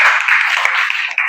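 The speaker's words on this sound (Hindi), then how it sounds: "शाबाश, ताली ताली" Students clapping together in a classroom, a brief burst of fast, dense, loud applause lasting about a second, close by, with no talking.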